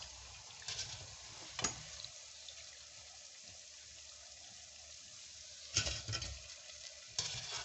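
Fried balushahi being lifted out of hot oil in a home kitchen: a low, steady sizzle with a few sharp scrapes and clinks of the slotted spoon against the pan, no talking.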